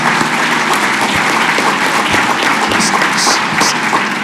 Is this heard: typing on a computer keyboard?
no